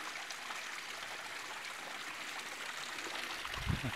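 Water trickles and slides down the rock wall of the Skolzyashchiy waterfall in Crimea, a soft, steady flowing hiss with a faint low thump near the end.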